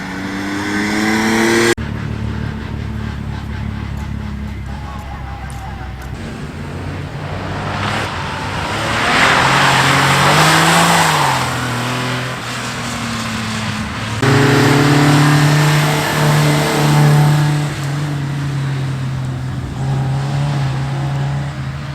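Historic Porsche 911 rally cars run on the Oulton Park skid pan, engines loud and close as they rev, accelerate and pass, with rising and falling engine notes and no talk.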